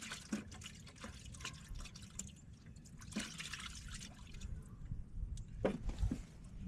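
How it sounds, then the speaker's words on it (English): Grease being washed off fingers with a little gasoline, soft liquid drips, trickles and squishy wet rubbing, faint and close, with no talking. "I'm gonna clean this grease off my fingers with a little bit of this gas."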